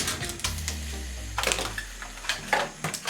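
Aluminum plates crunched by hand for a homemade balloon craft, giving a burst of crisp crinkling crackles close to the microphone over a low steady hum.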